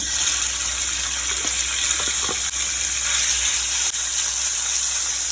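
Chicken pieces dropped into hot oil in a pan for chicken spring rolls, giving a steady broadband hiss and gush of frying with a few faint clinks, loud and continuous with no talking.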